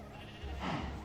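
Sheep bleating in the Minecraft video game, a short game-sound bleat that swells in the second half of the clip, loud and close, with no talk over it.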